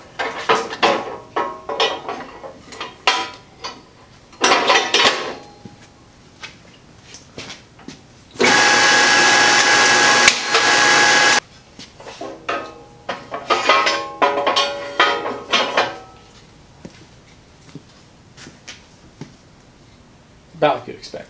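A tube notcher cuts into a carbon fiber tube, giving a loud, steady grinding whine that lasts about three seconds, set between stretches of talk and clattering workshop handling.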